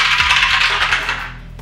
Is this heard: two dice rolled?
yes